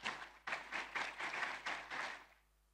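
An audience at a formal finance-industry launch event claps in a brief burst of about two seconds, a fairly faint spread of hand claps that fades out.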